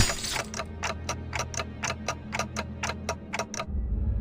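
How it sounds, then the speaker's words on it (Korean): A clock-headed creature in the video game Limbus Company ticks in a steady, even rhythm, about a dozen crisp mechanical ticks over a low hum, with no voices. "째깍거리는 소리만 들리네."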